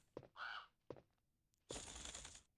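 Hostile crows caw harshly in the Resident Evil game, three rasping calls close by, the last long and loud, with clicks in between and no voices.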